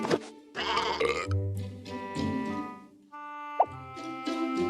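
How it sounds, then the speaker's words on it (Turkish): Cartoon goat giving harmonic, wavering bleats that repeat several times over a few seconds, fairly close and clear, with other animated sound effects between them. "Sağlıklı bir keçi."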